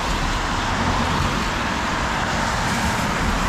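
A car passes on a road in Canada, a steady broadband roar of traffic noise heard from close by with no voices, holding fairly loud and even throughout.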